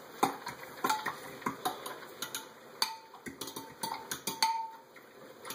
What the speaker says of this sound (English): And then mix it all really good.